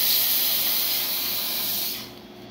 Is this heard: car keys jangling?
no